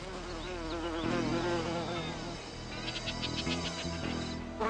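Solitary bees buzz continuously near the ear, their wavering wingbeat hum rising and falling in pitch as they move around garden flowers, with a few brief higher chirps partway through.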